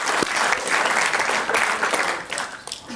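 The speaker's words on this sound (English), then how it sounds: "Yeah, you can clap, that's no problem." Audience at a general assembly in Amsterdam claps steadily throughout, a dense, sustained round of applause from a hall crowd with no talking over it.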